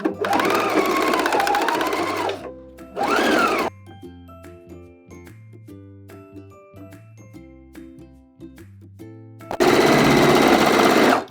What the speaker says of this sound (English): Now we're gonna sew this up at a 1/2 inch. Don't forget the back stitch, and this is a straight stitch and a permanent stitch.